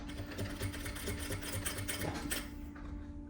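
A sewing machine runs continuously as it stitches fabric, sewing a long seam along a vest, giving a fast, even mechanical chatter up close, then stopping abruptly near the end.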